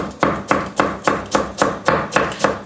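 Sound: chopping green onions

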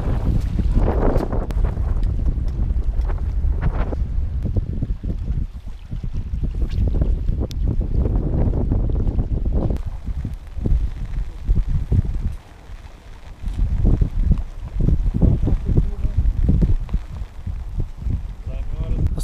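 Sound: strong wind

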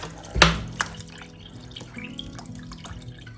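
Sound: pouring drinking water into bowl

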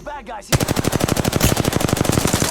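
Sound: gunfire in the video game Apex Legends

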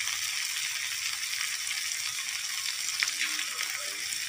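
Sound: kundru (ivy gourd) sabzi frying and sizzling in a pan

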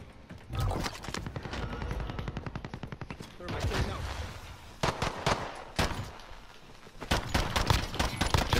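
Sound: gunfire in shooter video game

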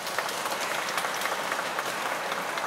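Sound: audience applause

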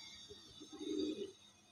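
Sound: racer pigeon cooing

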